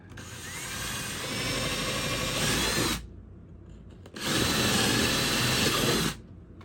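A power drill boring drainage holes into a wooden wren birdhouse, two sustained whirring bursts with a short pause between, loud and close, the pitch rising slightly as each hole cuts through.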